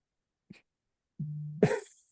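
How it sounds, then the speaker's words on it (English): During a podcast conversation, a man lets out a short cough, then a brief voiced throat sound and a stronger, harsher cough, all close to the microphone in a quiet room. "going to cough a little bit first"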